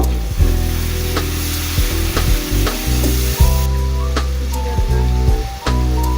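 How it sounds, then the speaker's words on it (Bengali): Spices with yogurt and ginger paste fried and stirred in a pan for chicken korma, a loud close sizzle broken by repeated spoon scrapes and knocks against the pan. "মশলাটাকে খুব ভালোভাবে বারবার নেড়ে চেড়ে কষিয়ে নিতে হবে"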